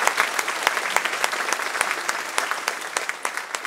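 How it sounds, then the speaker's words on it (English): A roomful of people applauding at a school band concert, dense and steady clapping with a few sharper claps standing out, moderately loud. "A round of applause for my ninth graders."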